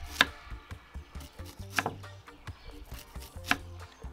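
Knife chopping an onion on a cutting board, a steady series of close, sharp thuds and clicks with a few heavier strokes, no talking.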